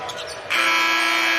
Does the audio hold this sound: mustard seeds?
no